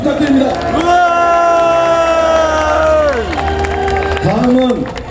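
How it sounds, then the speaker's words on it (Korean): Crowd at an outdoor protest rally in Mokpo against the nuclear wastewater release, loudly cheering and applauding with shouts and whoops layered over an amplified voice and sustained tones. "피 끓는 심정으로 규탄 발언을 해주신 우리 노평우 전남수산인 총연합회장님께 다시 한번 뜨거운 연대의 박수 부탁드립니다"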